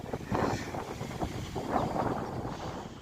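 Wind blows outdoors on a breezy June day in the Kollengode area of Palakkad, buffeting the microphone in continuous, uneven gusts.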